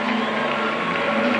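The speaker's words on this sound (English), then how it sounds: "the crowd's getting excited" Crowd cheering and excited noise at a 1992 professional figure skating competition in an arena, a dense, steady roar of many voices over faint music.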